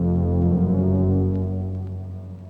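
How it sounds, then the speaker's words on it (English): A Jaws-style soundtrack ripoff in a 1984 slasher film: a deep, throbbing low drone of heavy bass tones, loud and steady, gradually easing in volume. "we hear a ripoff of the Jaws soundtrack"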